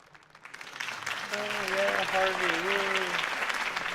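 A large crowd claps and cheers steadily in a Batman video game, swelling after a quiet start, while a voice speaks briefly over the applause.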